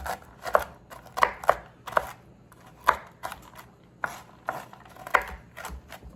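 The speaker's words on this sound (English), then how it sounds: "We are moving along, chopping" A knife chops pecans on a cutting board in a home kitchen, irregular sharp knocks and crunches spaced unevenly, close and fairly crisp, with no talking.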